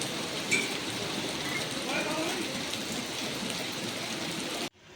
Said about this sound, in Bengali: বৃষ্টি একটু থেমেছে মনে হচ্ছে